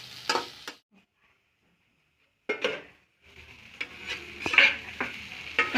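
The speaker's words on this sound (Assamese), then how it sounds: "ভালকৈ লৰাই দিম।" Lentils and egg being stirred and fried in a pan at home, with scraping stir strokes and soft sizzling in short bursts, a quiet pause, then steadier frying and clinks near the close.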